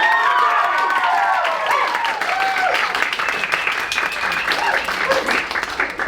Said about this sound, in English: I do trust that the moderation of your applause may indicate that you're saving your energies for the final curtain